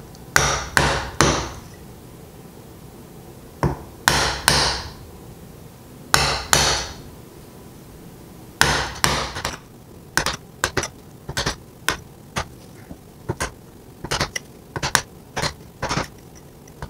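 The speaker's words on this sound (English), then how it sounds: "So time to just hammer it out." Hammer blows strike wood while a rose shadowbox case is built, sharp close knocks at first in clusters of two or three with pauses, then a faster, steadier run of lighter taps, with no talk.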